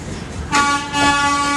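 An Indian Railways Gitanjali Express pulls out of Tatanagar station, a loud horn blast sounding after a short stretch of station rumble and then holding steady over the noise of the moving train.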